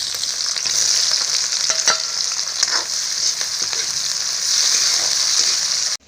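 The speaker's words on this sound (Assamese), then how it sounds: "গৰম হৈ গ'ল, মই ইয়াত পিঁয়াজ দি দিছোঁ।" Onions sizzle steadily in hot mustard oil for a Kerala-style chicken curry, a loud, continuous frying hiss with occasional stirring scrapes, cutting off abruptly at the end.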